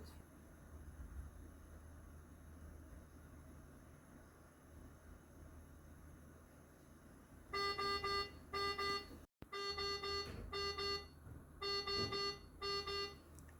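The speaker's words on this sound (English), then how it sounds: "The purge will be complete when the low NO alarm appears." A medical alarm on an INOmax nitric oxide delivery machine sounds its low NO warning during a purge, a loud repeating series of clear electronic beep bursts in several groups with a brief gap, over a steady low room hum.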